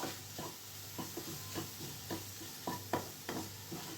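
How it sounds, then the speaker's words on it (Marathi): Chopped medium tomato cooks in a pan with a quiet, continuous sizzle and repeated stirring scrapes about every half second. "आता टोमॅटो पण थोडासा असा शिजवून घेऊया त्याच्यामध्ये"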